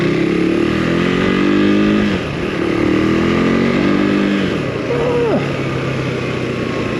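A Husqvarna Svartpilen 401 motorcycle with its standard exhaust is ridden on the road, its engine note climbing and dropping through gear changes, moderately loud, while a rider talks over it.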